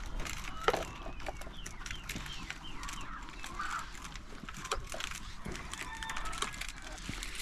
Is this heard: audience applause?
no